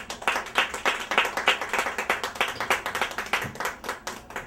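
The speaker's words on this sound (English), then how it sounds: "please give a warm round of applause for both of our guests today" A small audience at an evening author program claps for the guests, sparse and distinct hand claps in a quick, uneven rhythm, moderately faint and fairly close, with no talk over them.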